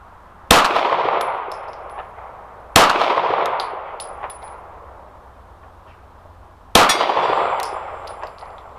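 A Walther pistol with iron sights firing at steel targets, including a black silhouette: three sharp, loud metallic clangs spaced a couple of seconds apart, each ringing out and slowly decaying.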